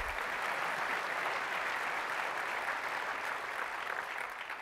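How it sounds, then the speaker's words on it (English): An audience at Apple's WWDC 2008 keynote applauds in a steady, even wash of many hands, fairly quiet and distant, with no clear voices over it. "You can clap, it's okay."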